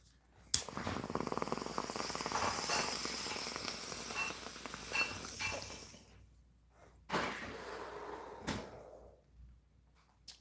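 A house cat purrs close and steadily, with a few soft knocks and thumps like a cupboard or drawer being handled nearby, and no one speaks.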